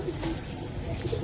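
Giribaj pigeons cooing close by, soft and low, with a few short murmuring coos that repeat through the moment and no voices over them.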